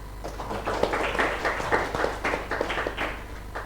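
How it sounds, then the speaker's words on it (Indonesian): Audience applause at a forum on agricultural productivity in Banten, uneven clusters of clapping with distinct individual claps over a low hum, moderately loud and close. "Boleh tepuk tangan?"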